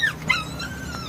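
A dog whimpers with short high-pitched whines, close by, over a steady low background hum, during a flood.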